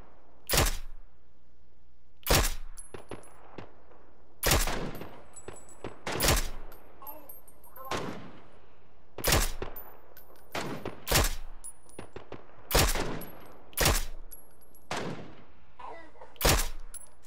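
Repeated gunfire in a battle royale shooter game, sharp loud bursts of shots recurring roughly every one to two seconds at a steady rhythm, some slightly more distant, with no voices over them.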